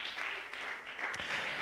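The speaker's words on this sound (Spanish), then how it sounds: "le vamos a dar un aplauso al Señor" A church congregation claps for the Lord during a sermon, with quiet, steady applause that sounds somewhat distant and washed out.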